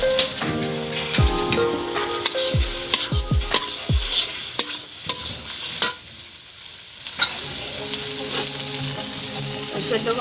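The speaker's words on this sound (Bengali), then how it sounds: "এবার ভেজে রাখা আলুগুলো দিয়ে দেবো।" Fried potatoes going into a jackfruit kalia masala and being stirred, with clattering drops, scraping spoon strokes and a steady sizzle, close and fairly loud; a voice is faintly present at moments.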